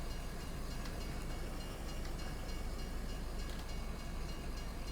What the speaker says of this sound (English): Ooh, train is coming.